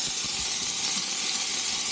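Vegetables for fried rice sizzle steadily in a pan on an induction cooktop inside an Airstream motorhome, a continuous close, bright hiss without any voice.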